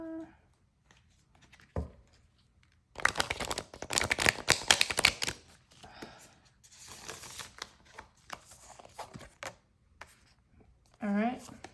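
Cards being shuffled in quick, crisp riffling bursts, close by, with pauses between and a voice speaking softly at moments.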